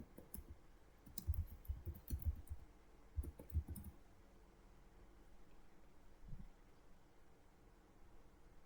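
A computer mouse clicks quietly and crisply while someone works in Trados or MemoQ translation software, with a few scattered clusters of clicks over a low, steady room hiss.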